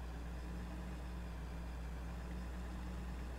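A John Deere tractor engine in Farming Simulator 15 idles with a steady low rumble, a constant near drone with no talk over it.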